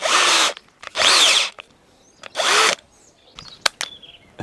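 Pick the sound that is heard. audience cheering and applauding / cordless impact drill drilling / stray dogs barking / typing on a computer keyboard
cordless impact drill drilling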